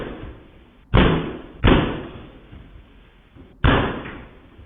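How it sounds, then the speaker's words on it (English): Heavy kicks against a studio door in a building with two suites, three loud booming slams with a short rattle after each, set apart by quieter gaps. "He was kicking the primary door."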